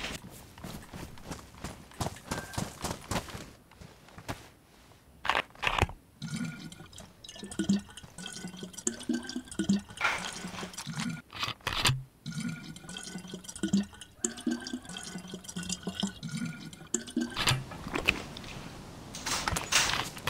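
Liquid poured into a car radiator in the video game DayZ, a continuous trickling, dripping water sound with clattering taps, moderately loud and steady throughout, with no talk.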